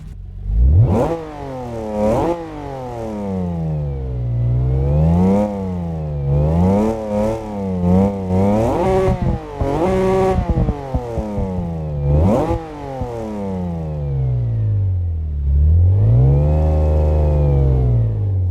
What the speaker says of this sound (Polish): Jest to piękny Nissan o pięknym brzmieniu